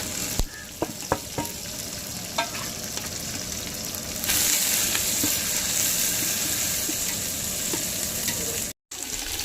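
Onions, green chillies and mint fry in hot oil in a village cooking pot for chicken biryani, giving a loud, steady, close sizzle with a few sharp stirring clacks early on, then a brighter, fuller hiss.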